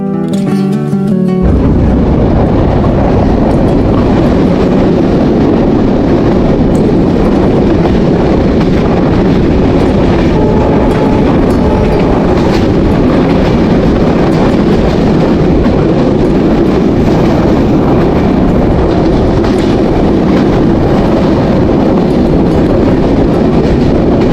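Sagardari Express passenger train heading to Khulna on a foggy early morning, heard from a seat inside: a loud, steady rolling rumble with rhythmic wheel clatter that continues throughout, with no talking.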